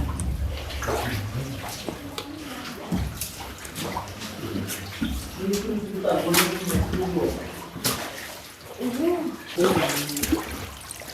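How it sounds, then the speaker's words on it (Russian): Underground water gushes and splashes beneath the feet in an abandoned coal mine on Sakhalin, a close, continuous rushing flow with bursts of splashing, while voices talk excitedly over it. "Текут реки, короче, под ногами."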